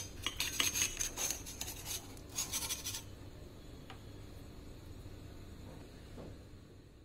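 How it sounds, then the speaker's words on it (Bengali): Chhana (cottage cheese) for steamed sandesh tipped and scraped into a mixing bowl, with close, dry rasping and scraping for about three seconds before the room falls quiet. "এখন এই মিক্সিং বলে আমি প্রথমে ছানাটা দিয়ে দেব।"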